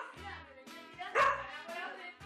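At a dog grooming salon, a dog gives a few short barks and yips mixed in with people chatting nearby. One louder bark stands out partway through.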